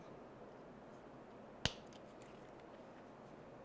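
A single sharp click as an ARRMA composite ball joint snaps into its socket, close and crisp against a quiet background, with no other sounds around it.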